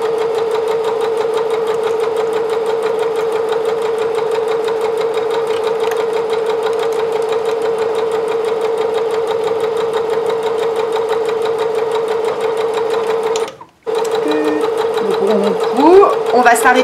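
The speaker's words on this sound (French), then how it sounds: "On va coudre la poche. Donc tout droit." Sewing machine running a straight stitch along a trouser pocket, a steady close mechanical whir that halts briefly near the end before restarting, with a voice talking over it.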